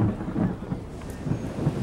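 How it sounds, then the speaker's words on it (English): Steady rain falls with a low rumble of thunder rolling beneath it, a dense continuous wash of noise with no voices. "and it's raining"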